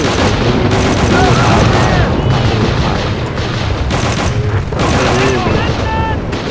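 Rapid gunfire from World War II weapons in the game Call of Duty: Roads to Victory, in dense bursts with booming impacts over a steady loud battle din, while a voice talks throughout.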